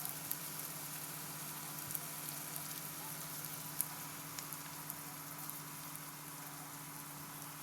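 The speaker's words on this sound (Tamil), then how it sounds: "உப்பு போட்டு வதக்கினா சீக்கிரமாக வெங்காயம் வதங்கிடும்" Sliced onions sautéing with salt in a pan for a South Indian pea kurma, a soft steady sizzle with faint crackles and a low cooking hum, continuous and fairly quiet.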